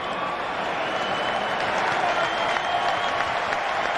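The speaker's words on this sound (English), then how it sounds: "Biggest cheer of the night so far." A big crowd roars and applauds at a Rugby World Cup 2003 match between South Africa and Georgia, a sustained even wash of cheering from a large stadium.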